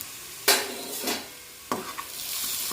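Carrots are stirred in a pan over a low flame, giving two distinct bursts of scraping and sizzling with a quieter gap between them, then a soft continuing hiss. The sound is close, and no one talks.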